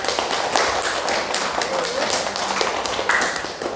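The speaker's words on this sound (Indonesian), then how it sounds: "Tepuk tangan dulu untuk kelompok 4." Students in an Indonesian classroom clap for a group that has just finished presenting its discussion results, a dense, steady patter of many hands with sharp taps scattered through it, close and fairly loud the whole way.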